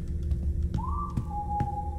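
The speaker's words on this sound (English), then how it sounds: "Oh, he whistling, whistling." A character whistles inside the Lazaret cargo ship game, a single clear rising-then-steady whistled note lasting about a second over a low ambient rumble and faint knocks.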